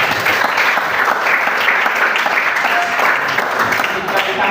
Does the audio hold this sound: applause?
yes